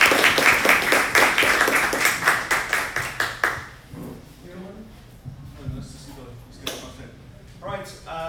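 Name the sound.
audience applause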